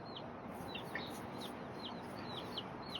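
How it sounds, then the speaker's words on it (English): Young chickens in Ybor City, Tampa, cluck and chirp repeatedly in short, rising calls over a steady background rumble, moderately close and fairly quiet. "Oh, chickens."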